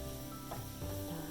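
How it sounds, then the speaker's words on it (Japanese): Onions fry in butter and olive oil, a short soft sizzle with a light scrape of stirring through the middle. "さあこんな感じで玉ねぎ炒めていきます"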